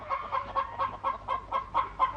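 Cartoon chickens cluck in a steady rhythmic series of short, close calls, about four per second, with no talking.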